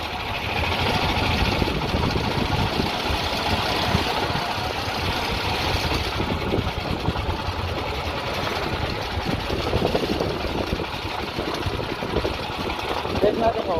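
A Honda GX390 generator engine drives a dune buggy in a steady, continuous low running drone with a rough mid-range rumble, close by and constant throughout, with no talk over it.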